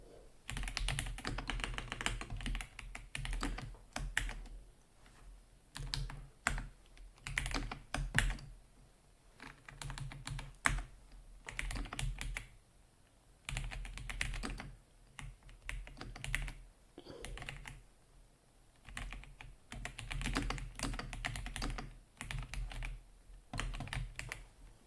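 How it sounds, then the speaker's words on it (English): Rapid typing on a computer keyboard, close and clear, with bursts of quick key clicks separated by short pauses, running throughout with no talk. "Let's type in a command for us."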